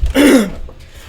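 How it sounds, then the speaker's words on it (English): A single short, raspy throat clear from a person at the start of a tabletop gaming session, close and fairly loud, followed by quiet. "clear my throat twice"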